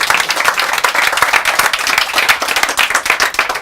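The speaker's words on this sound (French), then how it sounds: "applaudissements pour cette intervention." Lively audience applause at a comedy show: loud, crisp individual claps in a quick irregular patter, close and continuous for the whole stretch.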